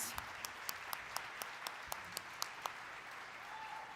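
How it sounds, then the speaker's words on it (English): Audience applauding a high school symphonic band at a charity concert, a steady wash of many hands clapping with a few sharp near claps standing out, sustained throughout. "One more round of applause for Hampden"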